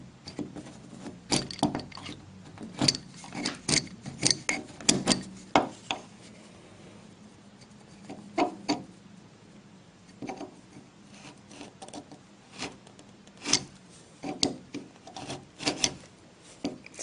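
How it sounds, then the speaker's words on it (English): Special hand tool scraping old paint out of a wooden window sash joint, repeated short rasping strokes in irregular bursts, close and fairly loud, with brief pauses between scrapes and no talk. "See how quick and easy that special tool cleans that joint out."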